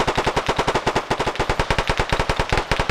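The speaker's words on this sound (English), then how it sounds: "Now you got Ash firing." Rapid automatic gunfire in a WW2 video game match, a loud, steady burst of evenly spaced shots lasting about three seconds with no voices.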